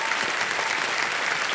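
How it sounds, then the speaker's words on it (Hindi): Studio audience on the Hindi quiz show Kaun Banega Crorepati applauding, a dense, even burst of clapping from a large crowd, loud and close, with no voices on top. "जोरदार तालियां बजाते रहिएगा"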